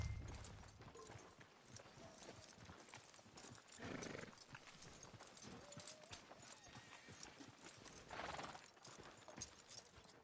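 Horse hooves clip-clop at a walk in the Red Dead Redemption 2 video game, soft and fairly quiet amid ambient outdoor noise, with faint mechanical creaks of tack and a brief vocal sound.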